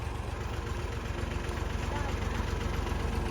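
A tractor engine runs steadily nearby at a construction site, giving a continuous low rumbling drone with a mechanical throb and no pauses.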